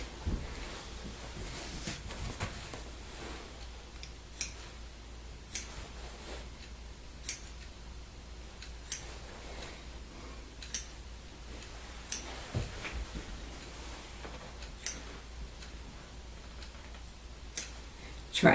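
Scissors cutting through sweatshirt fabric for a Christmas sweatshirt project, crisp snips repeating at a slow, fairly even pace roughly every second or two over a quiet background, close up with no talking.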